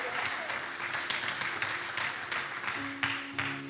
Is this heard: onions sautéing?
no